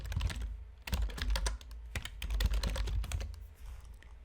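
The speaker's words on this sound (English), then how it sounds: "So I'm just going to type in the name George." Rapid, steady typing on a computer keyboard, close and clear, with bursts of key clicks and short pauses while a name is entered into a search field; no one speaks.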